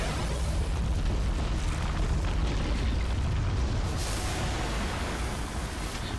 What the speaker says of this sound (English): laying down artillery fire on the ancient. Shrapnel, shrapnel, shrapnel.